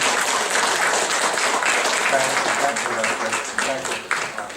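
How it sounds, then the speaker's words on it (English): Sustained crowd applause at a civic leadership forum in Ohio, dense and steady throughout, with a few voices murmuring and calling out underneath. "let's give them another big round of applause"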